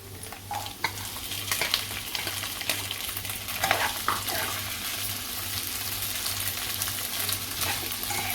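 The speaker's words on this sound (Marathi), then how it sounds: "अगदी मीडियम गॅसवरती चांगली परतून घ्यायची आहे" Sabudana and potato sautéing in ghee in a pan over medium heat for upwas sabudana khichdi, a steady close sizzle broken by repeated scrapes and stirs of a spoon, with a low hum underneath and no talking.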